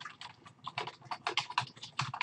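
Rapid typing on a computer keyboard while placing text inside a shape in Photoshop, a close, steady clatter of irregular keystrokes with no voice.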